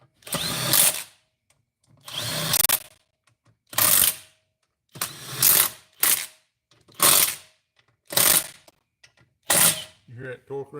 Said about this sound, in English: You hear that torque wrench click? It's clicked several times there.